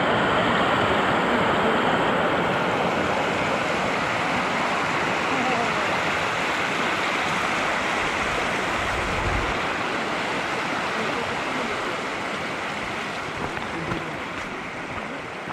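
A mountain stream near Fox Glacier rushes steadily for the whole stretch, a loud, close, broadband wash of water with no letup.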